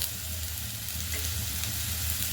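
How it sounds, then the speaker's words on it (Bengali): Potato, radish and taro chunks fry in hot oil with turmeric powder, giving a dense, steady sizzle close up with a faint low hum underneath and no talking. "এই যে আলু, মূলো আর কচু একদম ভাজা হয়ে গেছে লাল লাল করে।"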